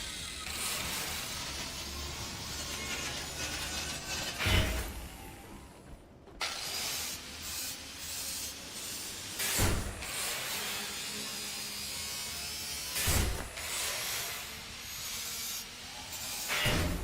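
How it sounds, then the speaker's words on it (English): An angle grinder cutting through metal in a caretaker survival game, a steady abrasive grinding rasp that runs continuously with several sharp bursts and one brief dropout, heard alone. "a microphone pointed at an angle grinder cutting through some metal"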